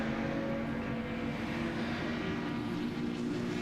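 Race cars, a Lotus Breadvan and an MGB, on a track at a Goodwood Moss Trophy race, a steady engine drone at a distance with a faint rising pass, loud throughout and without voices.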